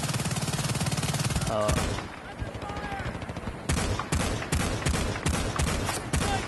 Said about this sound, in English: I'm getting shot at from all sides